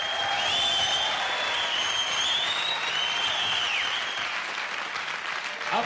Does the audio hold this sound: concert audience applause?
yes